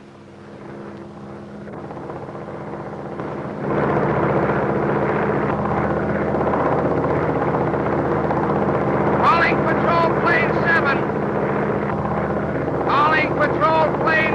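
A patrol plane's engine drones steadily in flight from an old 1930s film soundtrack, a broad, loud roar that swells after a few seconds and holds, with brief voices breaking in over it near the end.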